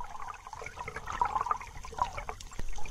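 The Adams River in British Columbia flows past in a soft, steady trickling murmur during the sockeye salmon run, faint and continuous with light gurgles.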